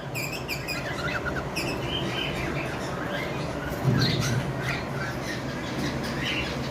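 Several caged pet birds on a breeding farm squawk and chirp in quick, overlapping bursts, fairly close, over a steady background hiss, with a brief low rustle midway.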